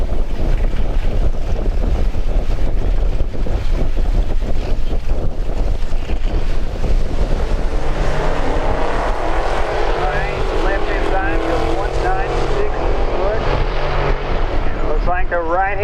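A drag racing car with a naturally aspirated 6.2 liter LS3 engine roars loud and continuous at the strip, blended with heavy wind noise and crowd din, while an announcer talks over it.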